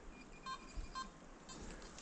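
Faint electronic beeps from a metal detector at an 1800s farmhouse site, two short tones about half a second apart, distant and soft under outdoor background noise.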